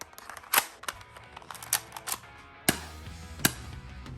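A cheap spring-powered airsoft pistol fires at a shooting range, sharp snappy clicks spaced irregularly, with a few quieter mechanical clacks between the louder shots.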